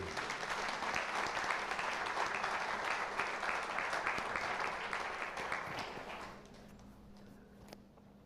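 An audience applauds after a song, a steady burst of many hands clapping that thins and fades out after about six seconds, leaving quiet room tone with a few last claps.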